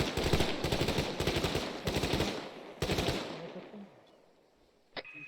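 Bursts of marksman gunfire in a military video game training session, several rapid automatic volleys crackling loudly, then fading to quiet before a single sharp report near the end.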